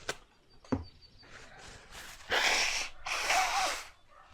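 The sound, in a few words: blowing nose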